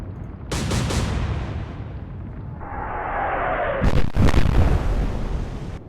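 Naval gunfire in the video game Atlantic Fleet, with a pair of loud close shots, then a whistling shell flight and a cluster of heavy impact blasts with a lingering rumble.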